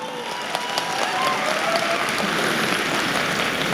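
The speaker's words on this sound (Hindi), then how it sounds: "आज 4-4 हजार लोग इतनी रात को ठंड में स्टेडियम में बैठ के तालियां बजा रहे हैं।" Thousands of people seated in a stadium at night clap together in a broad, continuous roar of applause at a motivational event, holding steady with no voice over it.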